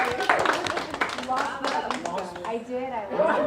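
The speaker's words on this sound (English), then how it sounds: "That deserves a round of applause right there." Applause from an audience at a health and wellness dinner talk, a short burst of clapping that is mixed with and quickly overtaken by speech.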